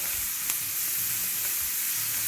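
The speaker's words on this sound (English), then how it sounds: "oh, listen to that sizzle" Shrimp frying in a pan, giving a steady, close hiss of sizzling oil that crackles continuously throughout with no voices.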